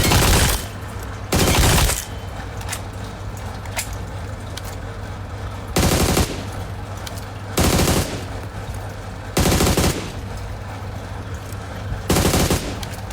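Automatic gunfire in the mobile battle royale game PUBG Mobile, loud bursts of several shots recurring every couple of seconds over a steady low in-game hum, with no talk.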